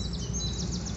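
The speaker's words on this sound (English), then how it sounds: "listening to the birds." Faint, repeated high bird chirps in woodland at Hollington over a steady low rumble of distant traffic from a main road.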